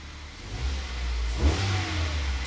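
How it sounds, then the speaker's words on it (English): A car engine, not yet fully warm, gets a gentle rev from a steady idle, rising briefly to a modest peak and settling back down, close and loud in a garage with no talking. "We'll give it a little rev."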